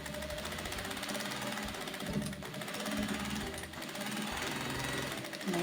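A sewing machine runs steadily, stitching the hem border of a cotton dish towel, a continuous close mechanical whir with rapid needle chatter throughout, with no pauses.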